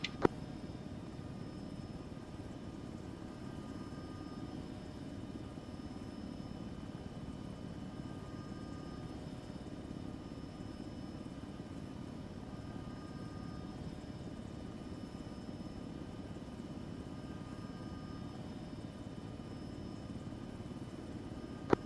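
In ArmA 3, an aircraft on final approach to an airfield gives off a steady, low engine drone, fairly faint and unchanging throughout, with no voices.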